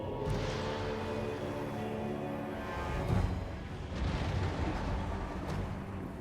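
Carronade and mortar artillery fire in a Total War game, a series of muffled booms and bursts rolling over a constant low rumble of battle, moderately distant and fairly faint, with no talking.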